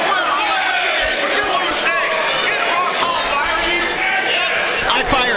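A wrestling crowd fills the Norfolk Masonic Temple with a steady, loud hubbub of overlapping voices and shouts, with occasional sharper thuds and bursts rising out of the din.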